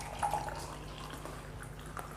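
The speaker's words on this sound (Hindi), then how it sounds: "ये मैंने ग्लास में ऑयल लिया था, हम इसमें डाल रहे हैं।" Oil poured from a glass into a glass of water gives a faint, thin trickle with a few soft drips, quiet and close, with no talking.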